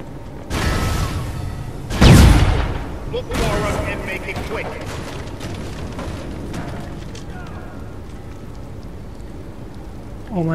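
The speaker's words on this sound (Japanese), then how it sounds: "あっちで爆発させてやろう。" An explosion in the video game Watch Dogs on PS4: a heavy, loud blast bursts out after a short lead-in, then rumbles and crackles away as fainter debris and ambient noise fade.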